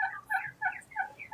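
Domestic turkeys gobble among chickens and other poultry, several rapid warbling calls in quick succession, close and clear against a quiet yard.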